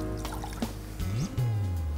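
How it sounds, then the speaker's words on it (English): Water is poured into a mixing bowl while making oobleck, a short splashy trickle with drips and a rising gurgle as the bowl fills, close and fairly loud. "First, we'll pour our water into our mixing bowl."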